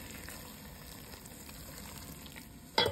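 Paprika, chilli powder and ground black pepper being stirred into a lamb stew in a pot, with a soft, steady sizzle and a sudden louder scrape at the very end.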